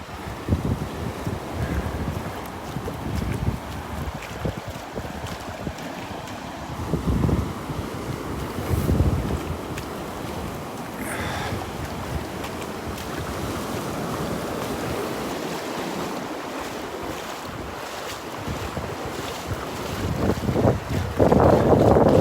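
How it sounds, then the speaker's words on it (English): Chilly wind blows on a beach at Delnor-Wiggins, a constant loud rush and buffeting against the microphone, with surf washing in the background. "oh man, that wind is nippy."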